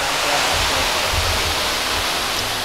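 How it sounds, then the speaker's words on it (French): Waterfalls in a park in Thailand: a steady, dense rush of falling water roars without a break, a full broadband wash with a deep low rumble underneath. "Il y a plein de cascades et tout,"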